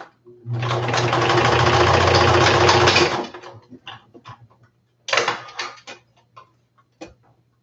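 A sewing machine stitches a seam in a steady, loud mechanical burst of almost three seconds. A shorter run of stitching follows after a pause, with light handling clicks between.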